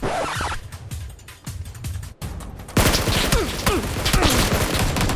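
Gunfire in the mobile game PUBG: New State with a SCAR rifle, scattered single shots at first, then after a short pause a louder, denser stretch of rapid firing with clattering handling sounds.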